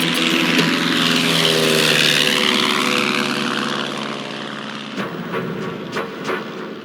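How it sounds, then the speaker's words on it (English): A small propeller plane flies out over remote Alaskan wilderness, its engine drone loud and close at first, then gradually fading and shifting in pitch as it moves away. "And Mobley makes his flight out"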